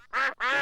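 A cartoon duck gives two loud, nasal quacks in quick succession, close and clear, each about a quarter second long with a short gap between them.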